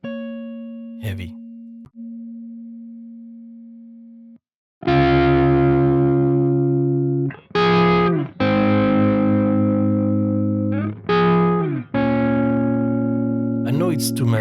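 Heavy distorted electric guitar through a Neural DSP Archetype Plini/Nolly amp simulator plays a sustained tone, then a series of thick, saturated power chords with short pauses between them, loud and close.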